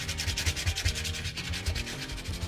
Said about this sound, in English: need to get stuck in with the sandpaper on them and all